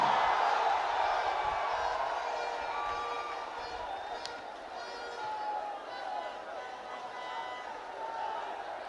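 Bangladeshi supporters in a stadium crowd roar steadily after Topu Barman scores for Bangladesh against Sri Lanka in a SAFF Championship football match, a dense, sustained wash of cheering heard from a distance, with commentary running over it.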